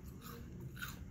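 Crisp bites into Lay's seaweed sushi flavoured potato chips, two soft, close crunches in about a second, fairly quiet, with no talk.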